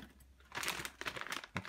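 Plastic bag from a Kyosho Tomahawk vintage RC off-road model kit box crinkling as it is handled, a brief series of close, soft rustles and crackles.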